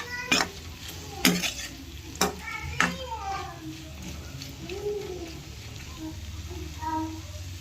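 Salt is stirred into bitter gourd frying in a pan: several sharp scraping clanks of a spoon against the pan stand out over a low, continuous sizzle, with faint tonal murmurs in between.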